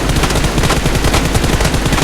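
Rapid gunfire in the battle game PUBG, dense loud bursts of shots crackling continuously with no pause, close and dominant.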